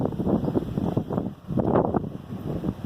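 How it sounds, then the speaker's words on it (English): Santa Ana winds gust up to 50 miles per hour around a young staked avocado tree, buffeting the microphone in rough, uneven bursts of low roaring noise. No one speaks. "when the Santa Ana winds are gusting up to 50 miles per hour."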